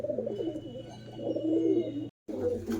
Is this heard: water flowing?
no